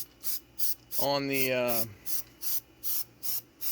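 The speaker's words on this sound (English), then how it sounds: "Alright, so we're going to spray it" Spray paint hissing in short repeated bursts onto 1:12 scale crate material, loud, evenly spaced spurts with a person briefly talking over one burst.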